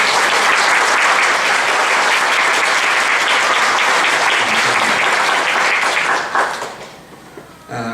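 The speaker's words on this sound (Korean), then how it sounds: "우리 강윤식 권사님 오신 분들 큰 박수" A church congregation gives loud, sustained applause during a Sunday Lutheran service welcoming a returning member; the dense clapping continues for about six seconds, then quickly dies away to a few last claps.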